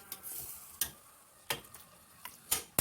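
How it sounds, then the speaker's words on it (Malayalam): Sautéed kappa biryani masala of oil and ground paste is scooped from a pan into a pressure cooker: five or six sharp, close spoon scrapes and clinks at irregular intervals over a faint, steady sizzle, with no talking. "നമുക്കിത് കുക്കറിലേക്ക് മാറ്റാം."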